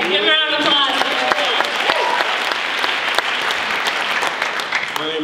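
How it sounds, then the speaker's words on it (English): An audience at a student gathering claps in a dense, steady round of applause, loud and sustained throughout, with a voice briefly audible near the start and end. "give a round of applause"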